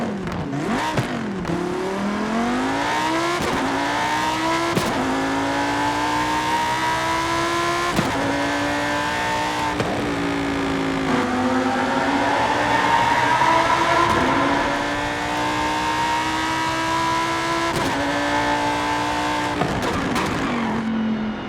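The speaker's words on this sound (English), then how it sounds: "Next car is the Lamborghini Huracan Super Trofeo." A Lamborghini Huracan Super Trofeo race car in Forza Horizon 5 revs hard through repeated gear changes, its engine note climbing and dropping in loud, close sweeps for about twenty seconds.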